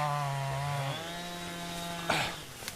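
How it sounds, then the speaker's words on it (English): A Stihl-style 550 chainsaw bucking logs bogs down under load, its engine whine dropping in pitch and steadying, then a sharp crack of wood near the end, all close and alone. "Sounds like that 550's bogging down bad."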